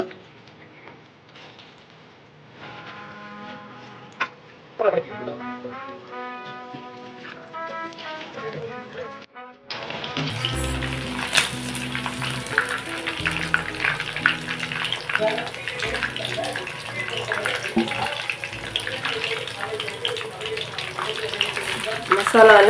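Marinated chicken 65 pieces drop into hot oil and deep fry with a loud, steady sizzling hiss that starts suddenly after a quieter stretch and fills the rest of the span, close and continuous.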